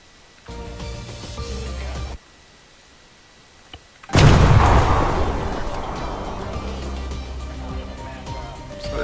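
Two hidden IEDs detonating under a vehicle in a military video game: a muffled rumble first, then after a pause a loud, sudden blast that rolls into a long, fading rumble.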